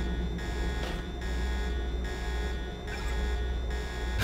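An alarm blares inside the video game Deus Ex: Revision, a steady electronic tone pulsing in roughly half-second bursts over a constant low hum, with no talk.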